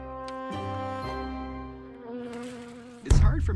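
A housefly buzzes steadily and close in a restaurant kitchen scene, a sustained droning hum that shifts in pitch, ending with a louder burst of noise.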